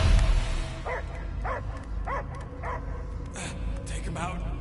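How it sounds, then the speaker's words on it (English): A dog barks repeatedly in the Marvel's Guardians of the Galaxy video game, a string of evenly spaced barks and yips over a low rumbling game soundscape. "I hear only barking."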